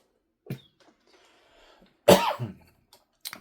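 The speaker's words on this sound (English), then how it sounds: "Apologize for the coughing. I just can't kick this seasonal cough." A person with a seasonal cough gives a few close, sharp coughs and a throat-clearing rasp, separated by near silence in a quiet room.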